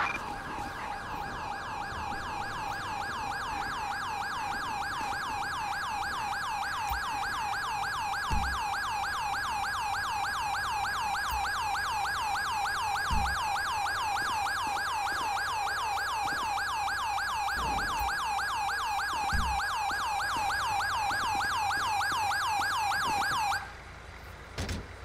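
Wailing ambulance siren in Grand Theft Auto 5 out in the Grande Sonora Desert, a steady fast-cycling electronic yelp that runs loud and unbroken for most of the stretch before cutting off near the end, with a few low thumps beneath.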